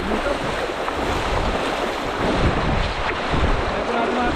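A strong river current rushes in a constant broadband roar, loud and close with heavy wind buffeting, and no clear voices over it.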